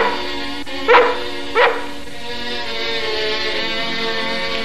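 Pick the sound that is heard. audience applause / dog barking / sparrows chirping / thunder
dog barking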